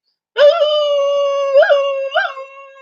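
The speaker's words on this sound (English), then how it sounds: "It gets them going, and they just howl like a dog howling at the moon." Dogs howl in response to a fire truck siren: one long, loud, clear sustained howl that swells twice in pitch, heard close and alone.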